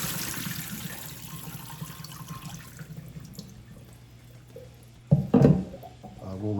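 Water runs and splashes steadily as soaked beans are drained in a kitchen, fading gradually before a few sharp clatters and a louder pour near the end.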